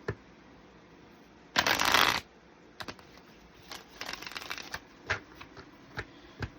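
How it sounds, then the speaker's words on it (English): A deck of oracle cards is shuffled close up: one sharp riffling burst, then a scatter of soft taps and light card flicks in a quiet room. "let me shuffle one more time"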